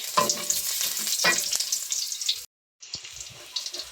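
Garlic dropped into a hot pan, frying for a tinolang tahong with mussels, sizzles loudly and close with stirring scrapes, breaking off briefly to silence before a lighter, steadier hiss resumes.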